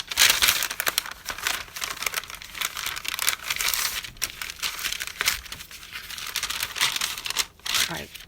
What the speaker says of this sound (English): I'm trying to slide it on the other side of the flap so that the manila folder is